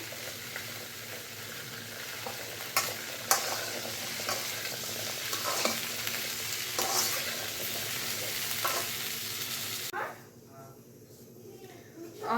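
Okra fries in a spoonful of oil in a pan, a steady soft sizzle with occasional sharp scrapes and clicks of stirring, before the sound drops away near the end.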